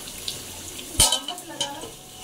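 Onions frying in a pot of khichuri, heard as a soft, close sizzle with a sharp metallic clink of stirring and a few lighter scrapes.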